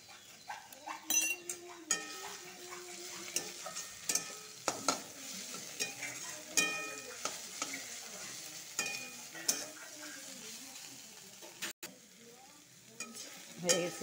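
Stems frying in a pan while being stirred, an intermittent sizzle broken by scraping and clinking of a utensil, moderately close, with faint animal calls in the distance.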